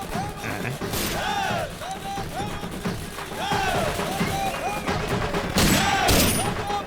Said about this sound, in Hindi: देखो कैसे फायरिंग कर रहे हैं।